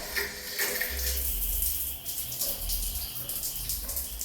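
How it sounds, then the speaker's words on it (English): Strong, steady rush of water pouring from a newly installed bathroom faucet in a house in Cebu, Philippines, a continuous hiss heard close up with no talk. "the water is very strong, as you can see"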